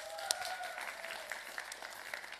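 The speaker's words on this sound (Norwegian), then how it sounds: "En varm applaus." A studio audience gives a contestant a warm round of applause, soft distant clapping with a few sharper individual claps standing out, fairly quiet throughout.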